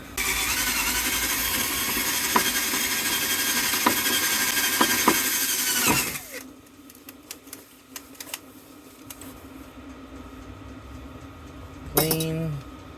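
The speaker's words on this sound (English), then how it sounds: "Have to drill that out." A drill bores out a brass piece from a vintage Vanguard V210-25FT fire alarm. Loud, continuous grinding lasts about six seconds before stopping, followed by faint clinks and a short bright tone near the end.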